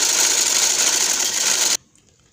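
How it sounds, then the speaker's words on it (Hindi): A sewing machine stitches doori piping onto a dupatta, a loud, steady close-up whir that runs continuously, then cuts off abruptly near the end, leaving a faint hum. "अब मैं इसी तरह पूरी सिलाई करती हुई चली जाऊंगी।"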